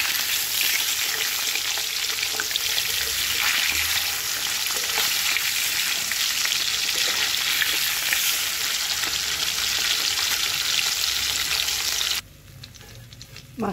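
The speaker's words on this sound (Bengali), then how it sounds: "মাছগুলোকে ভালো করে ভেজে নেবো," Fish fries in mustard oil with a continuous loud crackling sizzle heard close up, which cuts off abruptly near the end, leaving a quiet room.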